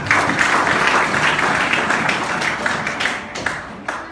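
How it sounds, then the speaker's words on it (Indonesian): A church congregation in Batam claps together in a loud, dense burst of applause that holds steady, then thins out toward the end. "Beri tepuk tangan bagi Sintia kita."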